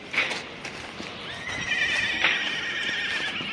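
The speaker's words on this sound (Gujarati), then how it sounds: "આપણે ફાઇનલી ઘોડો સામે બાંધ્યો છે તો એને પકડી અને નવરાવી નાખીએ" A tethered horse waiting to be bathed lets out a clear, close whinny over faint background noise, with a light hoof clop.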